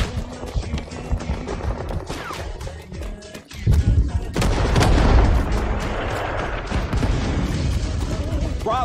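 Rising Storm 2: Vietnam artillery fire support lands in a battle at Long Tan, heavy booms and rumbling blasts rolling in over scattered gunfire, growing denser and louder midway and continuing as a sustained barrage.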